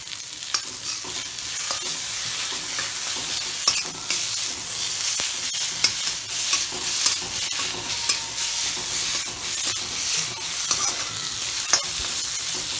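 Onion cubes frying in a spiced masala for a potato-and-onion curry, with a steady, loud, close sizzle and scattered clicks of stirring throughout; no one speaks.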